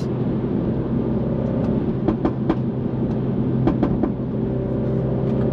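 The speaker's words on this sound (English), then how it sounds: "if I blip the accelerator, it does that" A Mini Cooper S (F56) engine idles with a low rumble, then revs in several quick sharp blips, some in close succession, with crackling pops.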